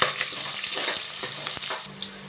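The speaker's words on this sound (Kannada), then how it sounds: "ಸ್ವಲ್ಪ ಚೆನ್ನಾಗಿ ಫ್ರೈ ಮಾಡ್ಕೊಳ್ಳೋಣ ಇದನ್ನು." Onion and whole spices fry in hot oil for a vegetable pulao, a steady close sizzle broken by the scrape and clink of a stirring spoon, with no talk.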